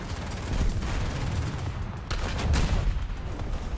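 Tank battle in War Thunder, with a Leopard 2A7V in the fight: rumbling booms of cannon fire and shell impacts, with a couple of sharp, heavy blasts standing out midway against a constant low roar.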